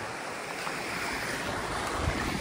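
A river near a hidden waterfall flows in a continuous, close roar of rushing water with a breathy, wind-like edge. The sound is brief and steady, with no talking.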